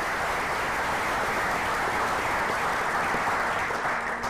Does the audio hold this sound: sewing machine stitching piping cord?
no